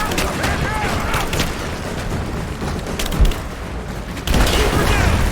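Gunfire and explosive booms in the video game Rise of the Tomb Raider, dense overlapping shots and blasts in a loud firefight, with voices shouting over the battle.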